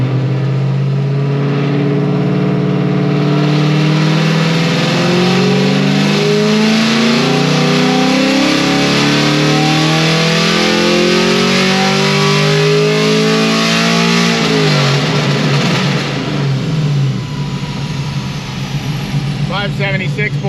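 Car engine with new heads and cam on a dyno, running on pump gas and revving hard through a long rising pull, loud and close, then easing off near the end.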